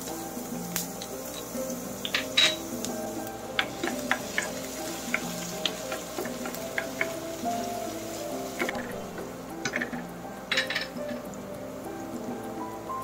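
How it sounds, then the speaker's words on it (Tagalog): Onions sautéing in a pan for chicken feet humba give a low, continuous sizzle, dotted with scattered light clicks and taps from stirring throughout. "magigisa na tayo mga suki. Unahin natin ang sibuyas."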